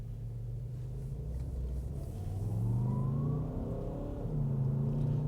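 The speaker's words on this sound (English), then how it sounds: "There is a wild turbo whine out of the car. You can hear it whining up" A Skoda Kodiaq RS SUV in sport mode accelerating on the road, a steady engine rumble with a turbo whine climbing in pitch as the revs rise, heard from inside the car.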